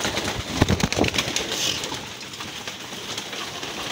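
Racing pigeons coo and flutter in a restless flock during feeding at a training loft, a steady busy murmur with scattered wing and foot noises, fairly close.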